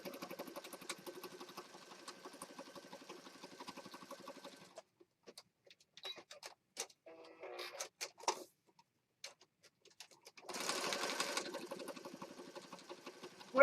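A sewing machine stitches a band on a junk journal in two bursts, a fast rhythmic run of close stitching at the start and a shorter one later, separated by quiet ticks and small handling noises.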